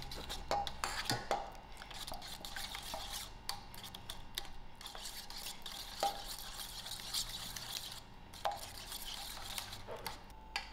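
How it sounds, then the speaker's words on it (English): Eggs and butter are creamed together in a bowl for homemade donut dough, with quick repeated scraping and tapping of a utensil against the bowl, fairly faint and steady throughout, with no talking. "I'm going to cream my eggs and butter together"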